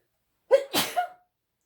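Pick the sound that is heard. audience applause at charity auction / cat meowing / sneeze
sneeze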